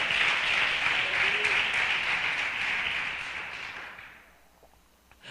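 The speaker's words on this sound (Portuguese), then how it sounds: "dê uma salva de palmas ao Senhor, porque Ele é quem manda" A church congregation applauds steadily in praise during a sermon, with a broad, even wash of clapping that fades out over the last second or so into near silence.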